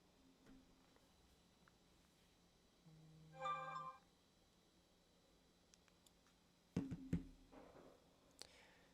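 A phone ringtone chimes briefly and faintly in a quiet room, a short tonal burst followed a few seconds later by a louder muffled clunk and clicks as the phone is handled.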